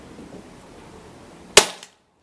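A single sharp air rifle shot cracks out near and loud after a stretch of quiet room noise, ending with a short fading tail.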